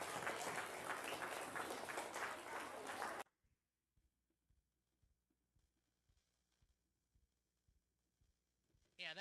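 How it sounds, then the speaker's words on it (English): Loud audience applause at an awards ceremony fills the first three seconds, then cuts off abruptly to near silence broken only by faint, soft thumps until a brief burst at the very end. "Let's give another round of applause for all of them and their great achievement"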